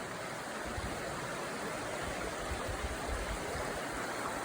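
River at a campsite along the Appalachian Trail, a steady broadband rush of flowing water, close and continuous with no voices.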